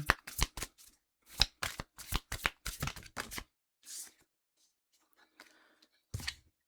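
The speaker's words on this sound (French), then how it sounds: "On va aller chercher maintenant 3 cartes oracle." Oracle cards are shuffled and drawn for a tarot-style reading: a quick run of crisp, close flicking bursts, then a pause, a lone soft slide and one last snap, all fairly quiet with no talking.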